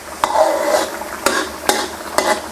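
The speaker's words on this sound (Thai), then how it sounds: "แล้วก็คนคลุกเขาให้โดนความร้อนทั่วๆครับมะเขือ" Pea eggplants are stirred into a bubbling Thai panang chicken curry, with a few sharp scrapes of a utensil over a steady sizzle, close and fairly loud, with no talking.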